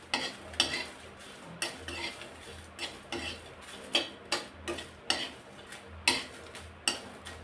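Whole spices are dry-roasted in a pan while being stirred, producing soft rhythmic scrapes about once a second over a faint low background hum, close and fairly quiet.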